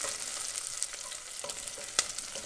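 Chopped onions sweating gently in about a tablespoon of oil in a pan for jollof rice, a soft steady sizzle with light stirring scrapes and a brief clink near the end.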